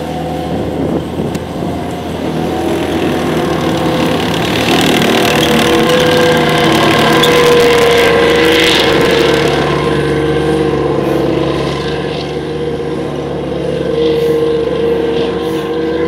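Tank rumbling past at the Bovington Tank Museum main display in 2018, a loud, steady engine roar that holds for many seconds and swells slightly as the armoured vehicle draws near, with no voices over it.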